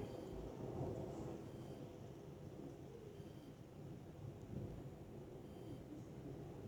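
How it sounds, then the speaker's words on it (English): Steady rain begins during a heavy thunderstorm, a continuous broad wash with low rumbling underneath and a faint background. "Now it starts raining."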